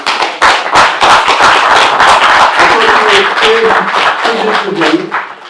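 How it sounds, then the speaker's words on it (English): A crowd applauds with dense, loud clapping that stays strong for several seconds, then starts to fade as a voice briefly speaks. "Give him a round of applause."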